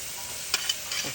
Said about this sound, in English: We're gonna saute this for a few minutes.